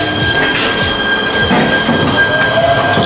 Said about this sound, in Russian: Здесь даже трамвай ходит, он называется метро.